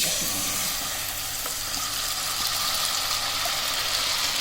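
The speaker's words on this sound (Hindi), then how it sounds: "अब ये सारा बैटर इसमें डाल देंगे।" Starch halwa batter poured into a hot pan over a low flame gives a steady, loud, bright sizzle that hisses continuously throughout without pause.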